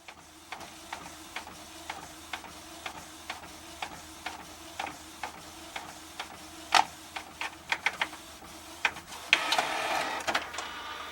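A 3D printer working on a relief map of Tokyo, with quiet repeated clicks and short stepping bursts over a steady low hum, ending in a denser rush of motor noise.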